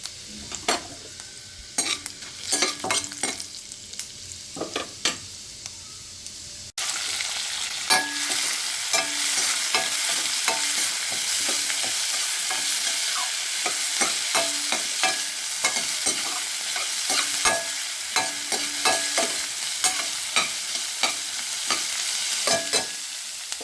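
Dal roasting and being stirred in a hot pan for an upma-style dish, with a steady close sizzle and frequent scraping stirs throughout, louder after a few seconds; no talking.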